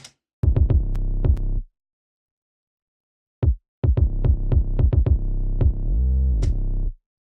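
Deep, booming bass notes from a beat remake play in short punchy bursts, a run of hits, a pause, then another run ending in a longer sustained note.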